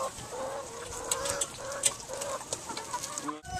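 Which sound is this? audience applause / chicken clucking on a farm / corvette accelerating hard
chicken clucking on a farm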